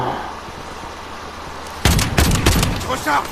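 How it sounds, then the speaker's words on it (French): Sniper rifle shots from the Warzone video game ring out in quick succession, several sharp loud cracks in a tight cluster following a quiet stretch of low game ambience. "sniper qui tire 3 fois d'affilée"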